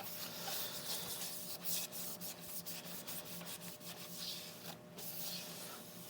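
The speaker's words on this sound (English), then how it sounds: "So we'll give it a wipe down" A cloth wipes turned London plane wood down with isopropyl alcohol, producing soft, close rubbing strokes in quick repeated passes, quiet and unaccompanied by speech.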